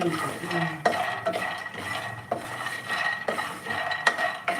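Metal spoon scraping and clinking against a pan while dried tamarind leaves are stirred and roasted, a steady rustle broken by repeated sharp knocks.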